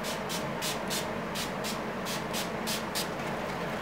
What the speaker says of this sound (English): My setting spray is the Wet n Wild Matte Finish,